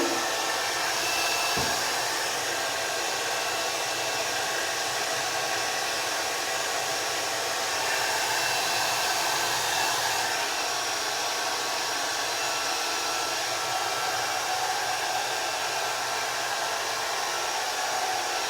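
A hair dryer runs on a low, cool setting, giving a continuous steady whoosh of blowing air with a faint motor whine, close and unbroken for the full length.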